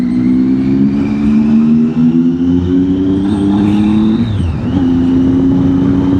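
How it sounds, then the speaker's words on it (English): A motorcycle engine with a new exhaust drones steadily and loudly close by, its pitch rising then dipping briefly during a shift before settling back into a steady run. "the camera just picked the noise up there, but I've also got a new exhaust on"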